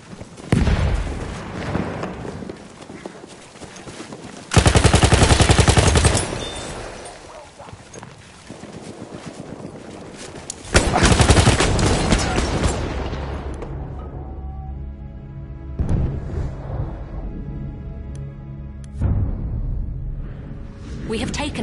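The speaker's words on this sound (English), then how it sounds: "Enemy machine gun over there!" Machine gun fire in the Battlefield 1 shooter: loud bursts of rapid gunfire with booming impacts, mixed with in-game voices calling out and a blast that fades away.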